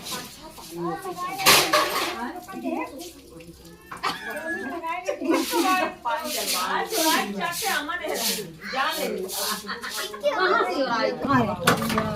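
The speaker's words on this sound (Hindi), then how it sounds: "फाइनली इनका जो है बर्तन धुल गया है।" Clattering of dishes and pots being washed, with splashing water and scraping, while people talk over the top throughout.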